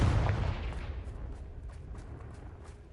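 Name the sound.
Confringo explosion spell cast in a video game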